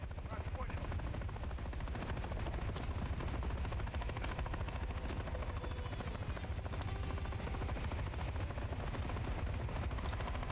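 Call of Duty: Modern Warfare 3 gameplay with sustained machine-gun fire aimed at a helicopter, dense rapid bursts over a constant rotor and battle roar, loud and unbroken for the whole stretch.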